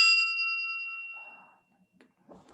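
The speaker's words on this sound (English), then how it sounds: "if you're at a bar and you order this, they got to ring the bell" One bright bell ding rung at a bar for a Teqass Azul tequila order, ringing out sharply and decaying over about a second, followed by faint clatter and quiet background noise.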